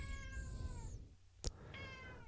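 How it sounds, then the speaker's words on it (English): A cat gives a long, drawn-out meow, then a short sharp click, then a second, shorter meow. The sound is fairly close and nobody speaks. "It's my little kitty."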